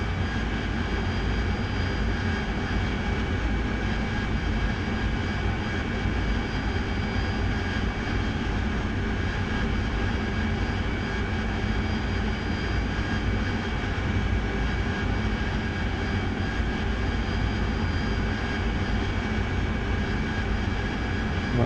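A steady, loud aircraft engine drone from a simulated plane cruising at 9,000 feet over the Gulf in the DCS World flight simulator, a continuous even roar with no talk over it.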